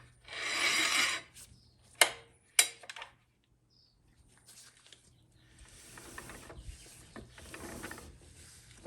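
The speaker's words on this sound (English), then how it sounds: "you want to rotate the output shaft counterclockwise," A Ford C6 automatic transmission's output shaft turned counterclockwise by hand during rebuild assembly: a burst of metallic rubbing, two sharp clicks, then a quiet pause before softer grinding and ratcheting rotation, close and unvoiced.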